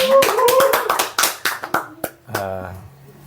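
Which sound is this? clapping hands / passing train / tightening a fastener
clapping hands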